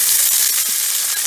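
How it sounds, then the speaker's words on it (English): Sausage, onion and green peppers frying in olive oil in a pan, a loud, steady bright sizzle with close crackling and no voices. "We'll cook this to get the flavor out of the sausage"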